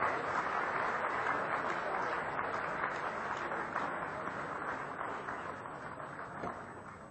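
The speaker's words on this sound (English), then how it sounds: "let's have a huge round of applause for our winners" Applause from an audience at an industry association's annual awards ceremony for the winners, a steady, dense wash of clapping at moderate level that fades slightly toward the end.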